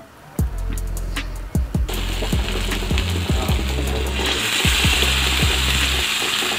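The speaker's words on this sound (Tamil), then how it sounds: "ஒரு தோசைக்கல்லோ இல்லை ஒரு தவாவில் எண்ணெயை ஊற்றி அதில் நம்ம இந்த மசாலா மீனை பொறிச்சு எடுத்துக்கலாம்." Masala fish frying in oil on a tawa, a steady loud sizzle and bubbling running throughout with a few sharp clicks and taps of utensils, and no voices.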